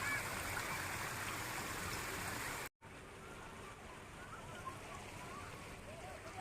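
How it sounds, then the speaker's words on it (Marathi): A clear stream of water flows through a garden, a steady, close rushing and gurgling that fills the clip, briefly dropping out for a moment before resuming. "पाण्याचा हा जो प्रवाह आहे, हा प्रवाह किती"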